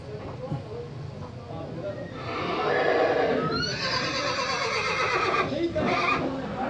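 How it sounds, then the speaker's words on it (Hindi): Horse neighing at a horse market in Lahore, a loud whinny rising in the middle and carrying on with rough, wavering calls over crowd chatter and outdoor bustle. "आपको एक नया घोड़ा हिकमत का वो आया हुआ है"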